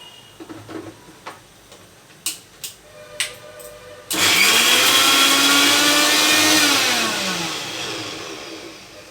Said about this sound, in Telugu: ఇప్పుడు మిక్సీ పట్టేస్తున్నాం